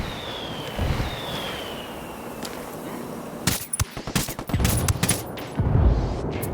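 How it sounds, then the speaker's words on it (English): Rebel gunfire diversion in Ghost Recon Wildlands, a burst of rapid rifle and machine-gun shots crackling after a quieter ambient stretch, dense clustered reports growing louder near the end. "I'd call the rebels for some indirect fire."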